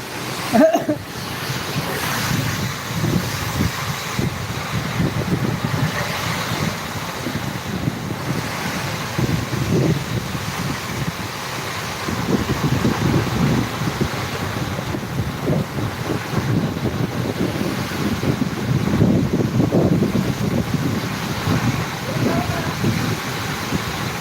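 Sudden unseasonal rain driven by strong wind, heard as a steady broadband roar and buffeting gusts on the microphone that swell and ease throughout, with no clear voices.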